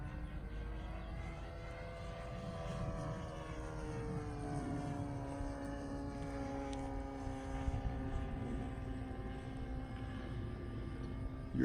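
An RC T-34 Mentor model airplane flies at a club field on its maiden flight, its propeller engine droning steadily at moderate distance with a slowly shifting pitch throughout.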